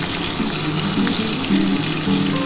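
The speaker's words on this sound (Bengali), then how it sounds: "আলুগুলো ভেজে নিই" Potato pieces frying in a pan with turmeric and salt for a goat meat curry give off a loud, steady sizzling hiss, heard close up with no speech.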